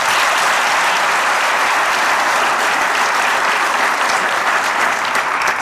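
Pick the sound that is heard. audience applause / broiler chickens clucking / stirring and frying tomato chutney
audience applause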